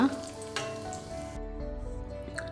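Grapes fry in hot ghee in a pan while making carrot halwa, giving a steady close sizzle. A louder crackle comes as they drop in at the start, and the frying settles into a quieter, even hiss.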